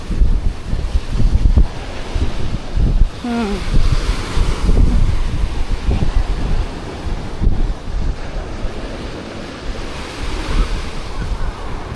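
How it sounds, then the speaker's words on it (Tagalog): Waves break and wash in along Puka Beach in Boracay on a rainy night, a loud, continuous roar of surf with heavy wind buffeting the microphone. "ito na ang dalampasigan ng Puka Beach. Gabi nag-uulan."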